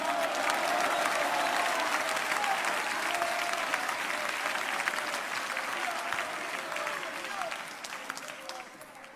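A church congregation clapping together in steady, loud, sustained applause that fills the room and slowly tapers off, with voices mixed in underneath.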